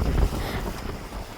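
Strong wind buffets the microphone in heavy, rumbling gusts, with no voices.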